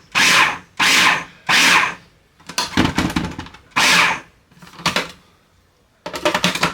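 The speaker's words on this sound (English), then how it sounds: "So now I'm just going to process that just for, just a little bitty bit, just to give it some juice" A food processor whirs through cooked corn in short pulses, several brief loud bursts of motor whine mixed with rougher, chunkier churning passages, each stopping abruptly before the next.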